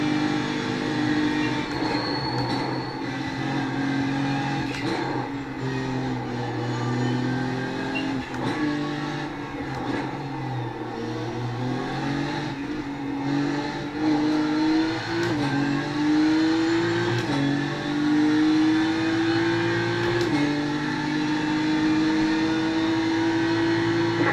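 BMW M4 GT3 race car engine in iRacing on the Nordschleife, droning loudly and continuously with rising and falling revs as the car accelerates and shifts, no talking over it.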